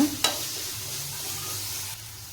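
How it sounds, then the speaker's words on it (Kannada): Green chillies fry in a pan with a steady, close sizzle and a brief utensil clink at the start, with no talking. "ಇದು ಚೆನ್ನಾಗಿ ಫ್ರೈ ಆಗಲಿ ಸ್ವಲ್ಪ."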